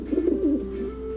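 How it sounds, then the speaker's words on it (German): Pigeons cooing in the video game Randal's Monday: a single soft, wavering coo that rises and dips, then trails into a held tone, heard alone and close. "Wir haben hier auf jeden Fall die Tauben."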